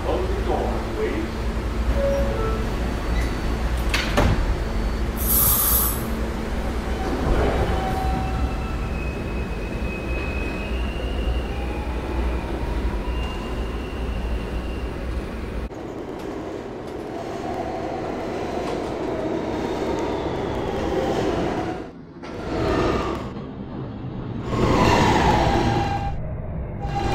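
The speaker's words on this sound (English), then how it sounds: "This is a Catlin bound E train." An R160 subway car on a Jamaica-bound E train in New York runs with a steady low rumble and rolling wheel noise, with brief squeals and shifts in tone as it travels, and automated announcements are heard over it.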